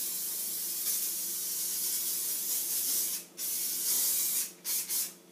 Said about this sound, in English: I'm just going to spray some oil spray in the air fryer.